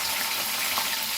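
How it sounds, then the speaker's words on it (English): Onions and chilies frying in hot oil, a dense, steady hiss throughout the brief moment, loud and close with no voices. "I will add now my onions to this and chilies to this."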